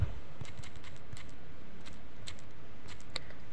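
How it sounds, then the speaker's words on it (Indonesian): Text is typed into the YouTube Create editing app as a run of quick, light, irregular key taps, close and fairly quiet against a low background hum. "kita coba ketik channel dana milenial"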